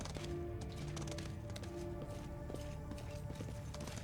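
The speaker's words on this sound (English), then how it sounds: "Get on your horse" Horse hooves clip-clopping in Pathfinder: Wrath of the Righteous, a steady mid-level trot under game music and ambient tones, with no voices over it.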